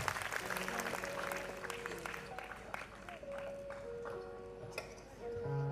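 At a school annual day function, a crowd claps through a film-launch ceremony. The applause is moderate and somewhat thin, mixed with sustained electronic tones and scattered sharp clicks.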